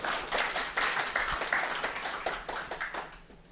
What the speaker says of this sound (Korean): 임원 여러분께서 힘써주시라고 다시 한번 큰 박수, 응원의 박수 부탁드립니다.